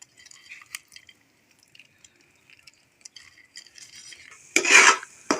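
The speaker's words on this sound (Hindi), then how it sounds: "अब हम इसमें जो है थोड़े से अखरोट और काजू डालने लगे हैं, जो हमने पीस लिए थे बारीक से।" Finely ground walnuts and cashews tipped into semolina halwa, with soft scraping and clinks of a spoon in the pan building to a louder burst of stirring near the end.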